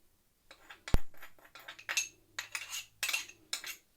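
Flour mixed with paprika stirred for coating rabbit pieces: a spoon clinks and scrapes against the bowl in quick, uneven bursts, close and clear, with one sharp knock near the start and no speech.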